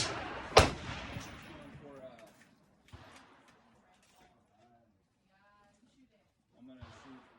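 A single sharp, loud gunshot from a 300 Blackout AR-15 pistol cracks out at an outdoor range and echoes away, followed by quiet and some talking.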